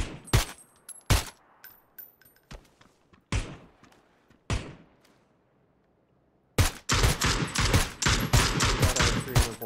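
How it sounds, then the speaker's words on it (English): Gunfire in PUBG comes as sharp single shots spaced over several seconds, then a dense rapid burst of automatic fire at the end, loud and close. "They're shooting at me right now."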